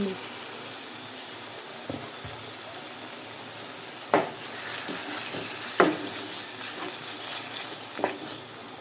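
Onion frying in a pan as a soft, steady sizzle with occasional sharp clinks and scrapes of a utensil against the pan.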